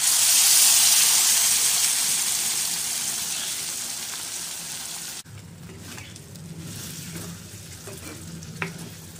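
Onions and gongura (sorrel) leaves fry in a pan with a loud, bright sizzle that fades, then drops to a quieter crackle with stirring and a small clink near the end.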